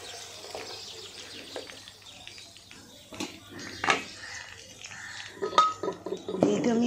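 Whole spices dropped into hot oil in a cooking pan give a faint crackle with scattered clinks of a utensil against the pan, growing busier and louder toward the end; no talking.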